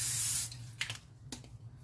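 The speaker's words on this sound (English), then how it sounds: "I'm going to spray some nonstick spray in here." A short hissing burst of nonstick cooking spray from an aerosol can into a pan, followed by a few light clicks and clatters nearby.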